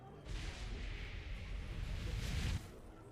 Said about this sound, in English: Let's see what a plasma explosion sounds like.